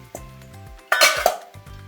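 Finely sliced roti tipped into a pan for kottu, bringing a sharp metallic clank and scrape of pan and utensil midway, with softer knocks before and after.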